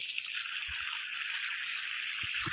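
Irrigation water flows steadily from a pipe across an onion field, a constant broadband rush with a few faint low thumps.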